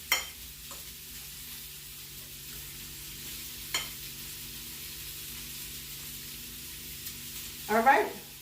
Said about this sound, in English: Just make sure everything's all mixed in. Make sure all your spinach leaves have some of the egg mixture.